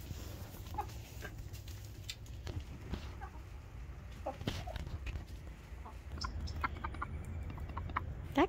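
Chickens on a small farm cluck in scattered short calls against a steady low outdoor hum, with occasional sharper fowl calls and a possible dog nearby.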